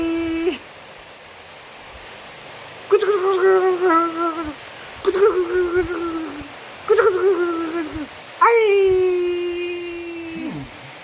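A dog gives a run of whimpering, whining howls, four rising and falling cries with pauses between them, loud and close over faint background noise.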